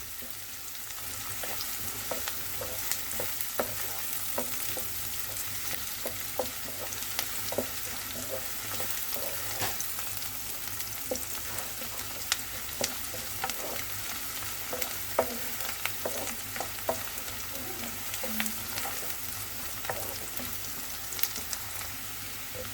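Onions sizzle in a hot pan: a continuous close-up crackle with scattered small pops and no talking.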